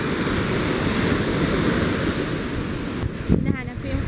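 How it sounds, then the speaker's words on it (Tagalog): Large ocean waves surging and washing onto a beach at low tide in the morning, a steady loud roar of surf mixed with wind buffeting the microphone throughout. "Pero malalaki pa rin yung waves,"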